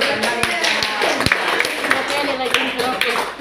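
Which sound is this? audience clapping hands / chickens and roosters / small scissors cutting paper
audience clapping hands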